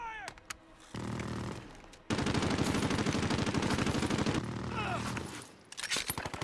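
Bursts of automatic gunfire in a Call of Duty Warzone battle royale match, rapid loud rattling volleys across several seconds with short pauses, while players' voices chatter over them.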